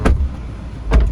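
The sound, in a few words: car door of modified Maruti Swift closing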